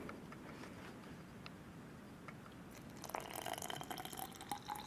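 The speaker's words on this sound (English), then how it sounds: "just add the water" Lukewarm water trickles and drips into a baby thermos, faint and close, with a light steady pour building toward the end.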